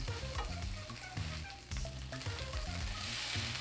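Vegan Korean street toast made with JUST Egg sizzles quietly in a pan over low heat, a soft continuous frying crackle heard up close.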